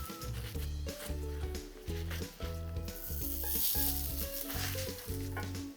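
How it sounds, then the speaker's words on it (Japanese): Salted yellowtail fillets, patted dry, sizzle steadily as they sear in a hot frying pan, a continuous close crackle running beneath background music throughout. "ではぶりを焼いていきます。"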